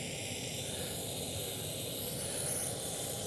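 An aerosol can of WD-40 sprays into the ports of a 2006 Subaru Legacy GT turbo engine during teardown, a continuous close hiss at even strength throughout, heard alone.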